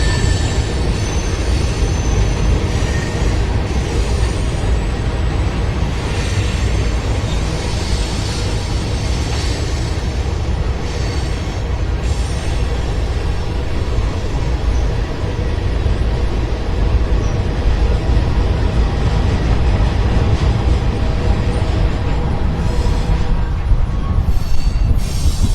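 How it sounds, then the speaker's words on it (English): A short freight train passes steadily close by, a continuous loud rumble of wagons with wheel squeal and rail clatter dominating the whole stretch, heard alongside a riverside cycling route. "Not a very long train."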